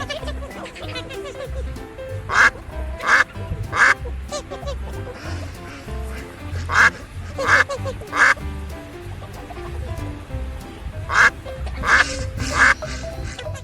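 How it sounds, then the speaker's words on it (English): A duck quacks loudly and close in three groups of three sharp quacks, spaced evenly over a soft musical backing. "Duck."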